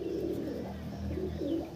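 An Andhra Pilanka pigeon coos softly up close, with a few low, rolling calls in steady succession.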